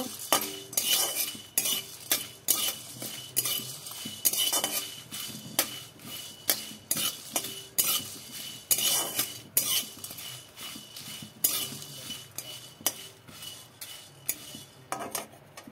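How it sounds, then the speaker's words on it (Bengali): Whole spices fry in oil while a metal spoon stirs them, producing rapid repeated clinks and scrapes against the pan over a faint sizzle, close and busy, with no voices. "মশলাগুলো ভেজে নিই, তারপর মিক্সিতে গুঁড়া করে নিব"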